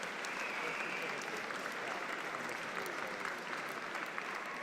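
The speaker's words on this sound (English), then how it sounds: "a round of applause, please, for both boxers, Des Newton and Luke Willis." An audience at a boxing event applauds both fighters after a super lightweight bout, a steady sustained clatter of clapping that fills the hall, with voices faintly mixed in.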